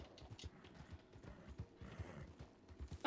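A horse gallops in the open-world western game Red Dead Redemption 2, its hooves pounding in a steady, rapid rhythm, close and moderately loud with no talking.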